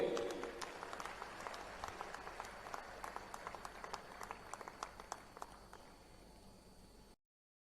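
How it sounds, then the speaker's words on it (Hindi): Crowd applause at a BJP booth-level political rally in Ahmedabad, Gujarat, a moderate, steady patter of clapping with distinct sharp claps scattered through it, fading slightly before stopping abruptly. "जोरदार तालियों से उनका एक बार स्वागत कीजिए."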